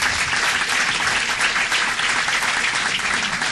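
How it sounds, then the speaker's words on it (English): A city council meeting audience breaks into loud, sustained applause for an honored Air Force veteran, a thick, even wash of many hands clapping throughout with no talk. "give him a round of applause."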